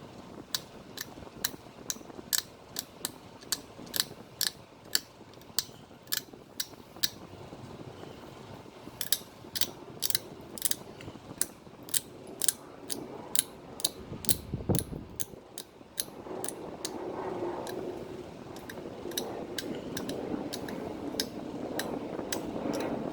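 Stone bird point being pressure flaked, a steady run of sharp little clicks and snaps as the tool shears small flakes off the thin edge, close and fairly crisp, with a brief low thump midway and a rougher handling rustle toward the end.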